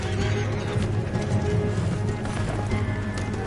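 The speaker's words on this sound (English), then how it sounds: "Let's get to those horses, Morgan" Horse hooves galloping in a PS4 video game, a steady busy clip-clop rhythm running throughout under dense game sound and background music, fairly loud and continuous.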